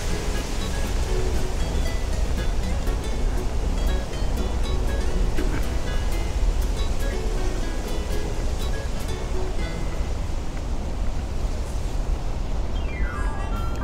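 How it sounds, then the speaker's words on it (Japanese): Wind gusts blow outdoors by the river in Asakusa, a continuous broad rushing roar buffeting steadily at moderate loudness for the whole stretch, with no talk. "風が吹いてきたね"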